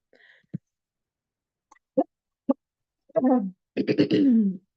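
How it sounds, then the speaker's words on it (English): A few short, sharp coughs spaced apart, followed by a couple of heavier, longer coughing bursts close to the listener. "I have a cough that like won't go away"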